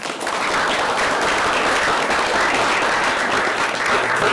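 A crowd at an Indonesian religious talk applauds, a dense, steady, fairly loud clapping that holds evenly throughout without pause.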